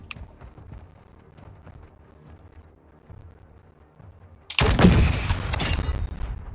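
Gunfire erupts from a gun in Call of Duty MWII, a sudden loud burst of dense, rapid shots after several seconds of quiet, low background noise.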